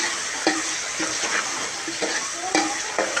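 Spices stirred into a masala with garlic-ginger paste and chopped green chillies for ojri curry, a steady sizzle broken by several sharp scraping strokes of a spoon against the pan, close and fairly loud.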